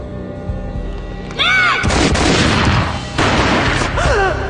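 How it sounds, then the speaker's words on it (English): A gunshot booms in the Max Payne video game, a loud broadband blast followed by a sustained rumbling tail, with a second burst after it, over a tonal game soundtrack. "A gunshot boomed and she fell down in slow motion."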